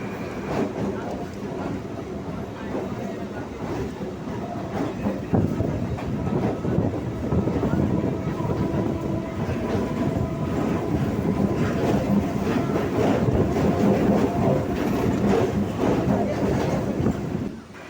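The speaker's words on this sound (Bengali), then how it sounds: "আমাদের ট্রেন এখন খিদিরপুর ডকের উপর দিয়ে যাচ্ছে" A train rumbles and clatters steadily along elevated tracks over Khidirpur Dock in Kolkata, a continuous loud mechanical roar with rhythmic wheel clicks throughout.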